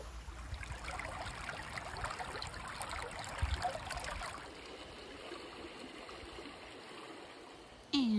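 A forest stream in Van Damme State Park, Mendocino County redwood country, California, flows steadily with a soft continuous trickle and gurgle, moderately close and quiet, with no voices over it.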